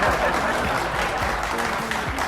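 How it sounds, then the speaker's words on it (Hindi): Audience applause at an Odisha dance reality show, a steady wash of clapping that holds at an even level throughout, with a faint low hum beneath it. "जोरदार ताली"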